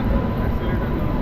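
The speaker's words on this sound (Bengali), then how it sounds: "আর এদিকে একটা কোনো ট্রেন ঢুকছে।" A train pulls into a railway station with a brief, loud, low rumbling roar that fills the whole moment.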